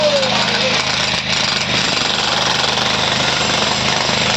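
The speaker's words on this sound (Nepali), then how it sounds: "ड्रिल मेसिन ल्याएर चाहिँ यसरी ल हेर्नुहोस् है काम सुरु" A drill machine breaks the ground to dig a foundation at a construction site, a loud, steady, rattling hammering drone that continues throughout, with voices under the noise.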